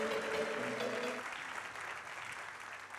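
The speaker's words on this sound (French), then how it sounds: "on va l'applaudir très fort" An audience applauds loudly for an innovation award winner at a trophy ceremony, dense clapping throughout with a brief tonal sound early on, easing slightly toward the end.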